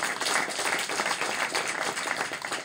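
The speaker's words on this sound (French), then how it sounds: "tu peux applaudir" Audience applause on a French satirical talk show, a dense steady wash of many hands clapping that holds throughout at moderate loudness, with no one talking over it.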